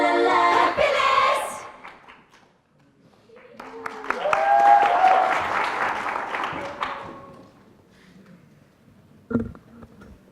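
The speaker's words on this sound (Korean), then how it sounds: "여러분 큰 박수로 맞아주시기 바랍니다" An audience at a Korean national youth speech contest claps in two rounds of applause, a short burst and then a longer swell that fades, followed by a brief thump near the end.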